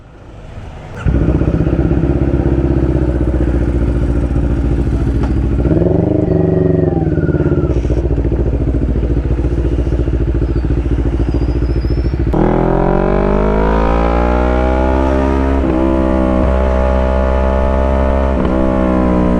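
Five motorcycles on a night ride along Marilaque rumble and rev loudly and continuously, rising in pitch as they accelerate, with no talking.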